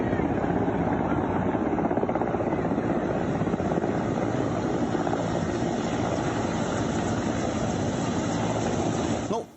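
A military helicopter hovers over water where people are swimming in the Kharkiv region, its rotor and engine making a loud, steady, dense roar for the whole stretch before it cuts off abruptly at the end.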